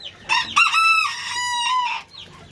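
Chickens and a rooster in a backyard coop: a loud, close, harmonic crow lasting over a second, with clucking just before it and a brief squawk after.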